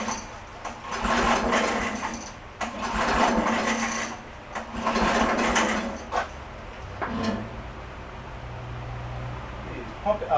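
A DR field and brush mower engine is pull-started over and over: about four rasping cord yanks come in rough rhythm, each a short whirring burst, followed by weaker tugs and a low sputter, close by.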